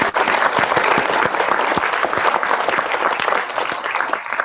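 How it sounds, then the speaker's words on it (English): Steady, dense applause from an audience thanking event volunteers at a hackathon demo and judging day, loud and sustained throughout with no pauses. "So let's give them a round of applause."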